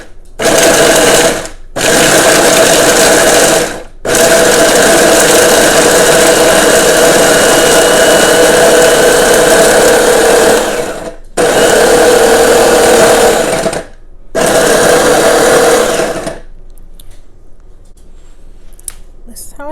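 Carrot top pesto ingredients, without the olive oil yet, get pulsed in a food processor: five loud, close motor bursts of whirring and chopping, one long run in the middle, separated by short silences, ending in a quiet tail.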